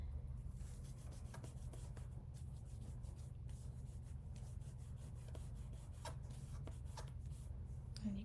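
Burnishing foil flakes onto a stamped card, a quiet continuous rubbing and scratching close by with small irregular strokes over a low background hum.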